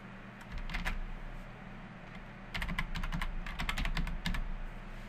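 Keystrokes on a computer keyboard as a username and password are entered, two bursts of quick, irregular tapping with a short pause between, close and moderately quiet over a low background hum.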